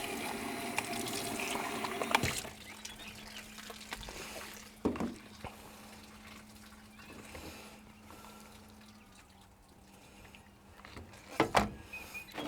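Kitchen container rinsed under a running tap, a soft continuous trickle of water with a few louder splashes and clunks of the container being handled.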